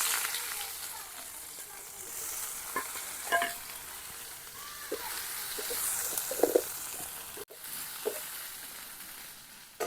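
Onions frying in a little oil, a steady close sizzle with occasional stirring scrapes and small pops throughout.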